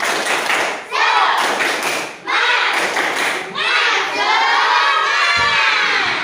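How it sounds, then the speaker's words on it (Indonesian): A classroom of children performs a rhythmic clapping cheer, loud group claps in patterned bursts mixed with shouting and chanting voices, close and energetic, with brief pauses between phrases. "1, 2, 3, tepuk semangat."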